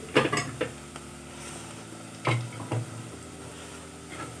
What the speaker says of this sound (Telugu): ఉల్లిపాయలు వేగుతున్నాయి కదా చూస్తున్నాను